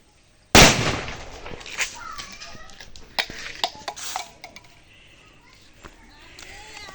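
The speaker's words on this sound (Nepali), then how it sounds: "अब हामी हेर्नेछौँ कि यो रकेटको हालत के हुन्छ, कति माथि जान्छ यो जगमग बमले।" A homemade Diwali firecracker rocket bursts with one sudden loud bang, followed by a few sharper crackling pops and fading fizz, with faint voices underneath.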